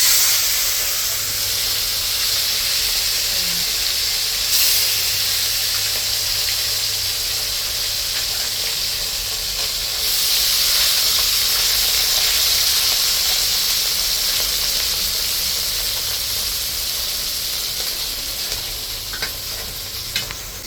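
Pomfret fish fry in hot oil with a dense, steady sizzle and hiss close by. The sizzle runs continuously, with occasional stirring scrapes and brief surges.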